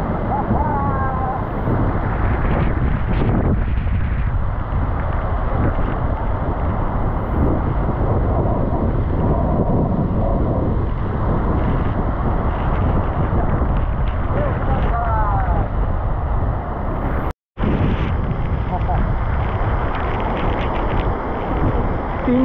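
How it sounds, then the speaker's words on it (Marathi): Devkund waterfall plunging about 300 feet during the monsoon, a loud unbroken roar of falling water and gusting wind buffeting the microphone close by, with one brief dropout. "जवळपास 300 फुटांवरून थेट खाली जमिनीवर कोसळणारा हा धबधबा"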